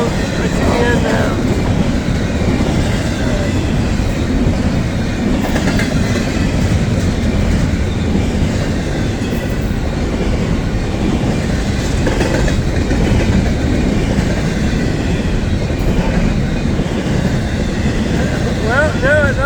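A long Amtrak passenger train passes close by in a loud, continuous rumble with steady clickety-clack of wheels over rail joints, gradually slowing. A person talks faintly under the noise.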